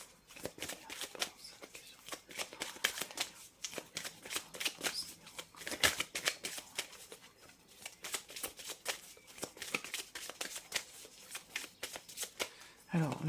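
Tarot cards being shuffled in a steady run of crisp, rapid riffles and slaps that carry on throughout, close and fairly loud, with faint room tone beneath.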